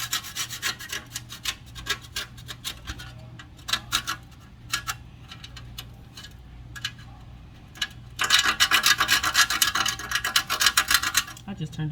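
A small piece of nutmeg is rasped against a grater in quick scraping strokes, first in scattered bursts and then in a denser, louder run near the end.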